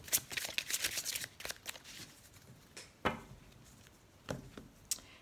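Tarot deck being cut and handled, with crisp card riffles and soft slaps that cluster at the start and then come as a few scattered flicks, close and quiet, with no talking.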